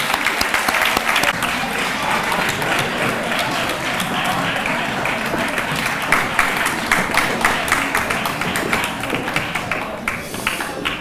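Sustained applause from an audience in a school hall as students are honoured at a secondary school graduation and awards ceremony, dense steady clapping throughout with crowd noise.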